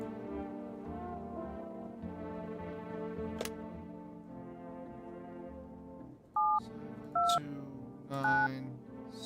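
Telephone keypad tones from a horror video game, several distinct DTMF beeps in quick succession laid over a steady droning ambient game soundtrack.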